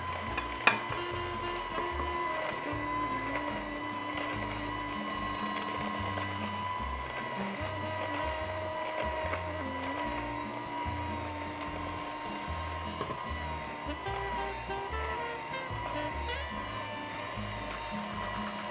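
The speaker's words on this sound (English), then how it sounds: "I just want to shut the blender off for a minute" Electric kitchen blender whirring steadily as it mixes cookie dough, a continuous close mechanical drone with a varying pitch, running throughout with no pauses.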